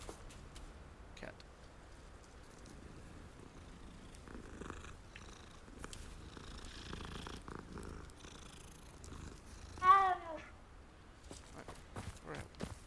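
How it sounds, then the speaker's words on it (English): A cat purring in the video game Hogwarts Legacy, a faint low continuous rumble under scattered footstep-like game sounds, with one brief louder vocal-like burst partway through. "Cat."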